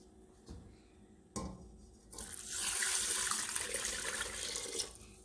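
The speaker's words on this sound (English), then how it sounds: "it's time to add my 4 cups of water" Water pours steadily into a cooking pot for Mexican rice pudding, starting after a couple of soft clinks and building into a loud, continuous splashing rush that holds for about three seconds before easing off.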